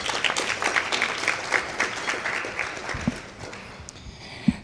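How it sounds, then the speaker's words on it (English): An audience claps at a graduation and scholarship ceremony: a dense, steady round of applause from a crowded hall that fades toward the end, with a few louder single claps. "So just give a round of applause to Professor Jibril"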